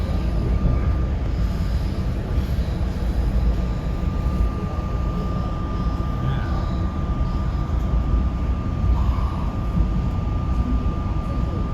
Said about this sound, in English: Ooh, there's a freight train up there.